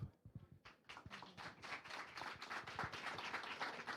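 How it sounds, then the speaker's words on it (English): Audience at a women, climate change and health session clapping, with faint scattered claps that quickly build into steady applause from a small group. "Another clap."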